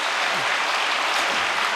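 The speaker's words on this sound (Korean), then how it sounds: "마지막 순서로 인천 대교구를 맡고 계시는 김인창 대교구장님을 큰 환영의 박수로 모시겠습니다." Applause from an audience at a Korean New Year's Day prayer service, welcoming a church leader to the stage: a steady, continuous wash of clapping that fills the whole moment, with no voices heard.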